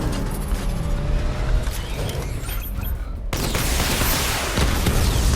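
A missile barrage fires in Batman: Arkham Knight during a diagnostic test, a sustained roaring rush of launches and blasts that swells into a louder, denser wall of noise partway through.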